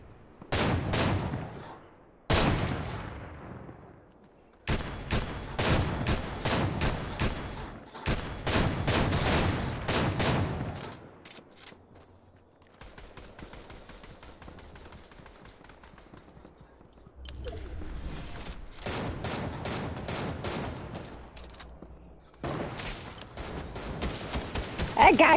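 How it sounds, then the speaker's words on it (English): Bursts of rapid gunfire from several players in a Fortnite Zero Build squad match, loud volleys and sustained automatic fire in repeated blasts with short gaps, one quieter stretch of distant shooting in the middle, and voices under the shots. "Every one of us is shooting them."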